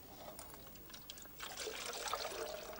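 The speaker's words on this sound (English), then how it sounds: "you pour the ice cream mixture into the can" Ice cream mixture pours into a metal can set in a bucket, a soft trickling stream that thickens into a steady splashing pour, close and without talk.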